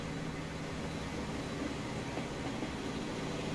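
An ore cargo train in the game Transport Fever 2 rolls past with a steady, dense rumble and hum that holds evenly throughout, with no voices.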